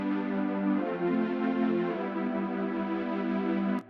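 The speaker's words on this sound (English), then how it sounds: "But I put a sidechain filter on it for some movement." Layered synth pad chords swell and shift under a sidechained filter, sustaining for nearly four seconds before cutting off abruptly, with no voices.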